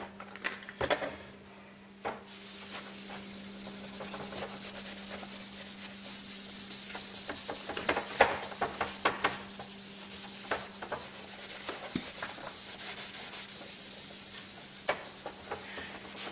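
Body filler being hand sanded with a sanding block, a steady rasping scrape that runs continuously with short strokes over a faint background hum.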